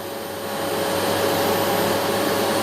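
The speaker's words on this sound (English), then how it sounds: "it's a loud vacuum cleaner." A Philips FC8575 vacuum cleaner runs at maximum speed with a loud, steady roaring whine and a thin high tone, continuous and close, rising slightly at the start.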